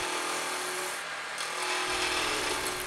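Wood lathe spinning at about 2,500 to 3,000 RPM while a spindle roughing gouge cuts a wooden tool handle, giving a steady broadband hiss and rub with a low motor hum, close and continuous with no talk.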